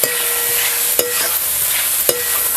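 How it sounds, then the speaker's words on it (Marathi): Tomatoes, ginger and garlic roasting in a pan for Kolhapuri misal, with a steady broadband sizzle and a couple of sharp spoon scrapes against the pan, close and alone without talk. "हे टमॅटो आणि इकडे आपण आलं लसूण घेतलं तर ते घालूया आणि सगळं मिळून आहे आपल्याला चांगलंच आहे ना भाजून घ्यायचं"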